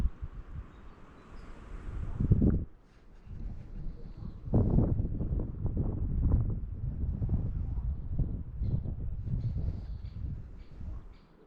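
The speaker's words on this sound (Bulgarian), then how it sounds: "Духа вятър върти много." Wind blows hard at an outdoor fishing spot, gusting as a loud rumbling buffet against the microphone that rises and falls over the whole stretch.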